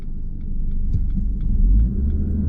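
Low, steady rumble of a 1998 Ford Focus 1.6L 16V four-cylinder Zetec engine running while driving, a constant throbbing drone close by with no voices.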